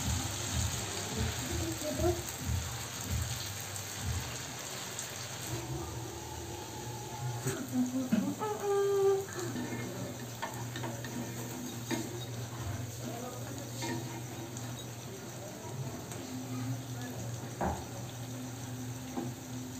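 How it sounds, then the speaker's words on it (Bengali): Long potato sticks frying in hot oil, a soft low sizzle with clinks and scraping of a utensil in the pan, quiet and steady with occasional stirring. "তেলটাও গরম হয়ে গেছে। এবার এগুলোকে তেলে ভেজে নেব।"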